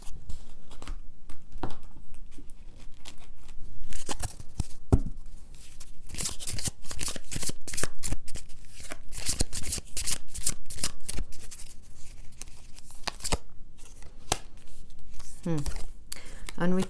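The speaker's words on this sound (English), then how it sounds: "I like to do a little extra shuffle while you guys are on camera." Tarot cards are shuffled by hand in a long, busy run of quick riffles and slaps, loud and close, with brief pauses between bursts.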